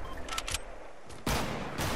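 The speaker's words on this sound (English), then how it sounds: "Oh, she's shooting at people." Bursts of gunfire from a teammate during a multiplayer squad shooter match, short rapid volleys that break off, then a louder sustained burst at close range, with no talk.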